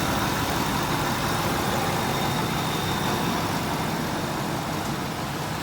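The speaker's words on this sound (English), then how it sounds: "Beautiful 8-cylinder, factory supercharged, over 300 horsepower." Supercharged V8 of a 2000 Ford F-150 Lightning pickup idles steadily and close by, a dense, even engine rumble with no pauses and no one talking.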